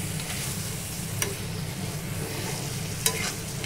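Chicken fries with potatoes and spice paste in a pan, a dense continuous sizzle filling the scene with two brief sharp clinks of a utensil, close and steady without speech.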